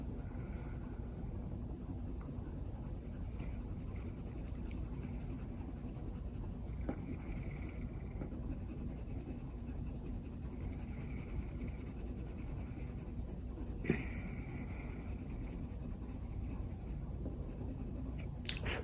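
Colored pencil pressed hard on paper in a burnishing stroke, a steady soft scratchy rubbing that runs close and constant throughout with a few slightly sharper scrapes.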